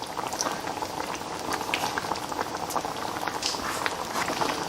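Beef kidney curry, Kerala style, bubbling in a pot with tomato and coriander leaves added, a steady, close simmering gurgle with fine popping and hiss throughout, no voices.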